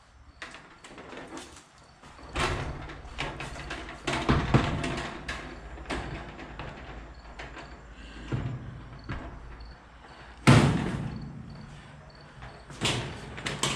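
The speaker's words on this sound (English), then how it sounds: "We grab the right-hand door." Right-hand door of a Husky steel garage cabinet being hung during assembly, with several close clanks, thumps and scrapes of metal parts spread irregularly across the clip, two sharper bangs standing out.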